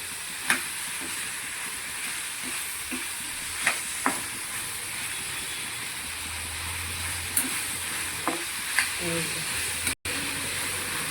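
Onion fries in a pan for capsicum gravy, a low steady sizzle and hiss with a few spaced clicks of a spatula or ladle against the pan.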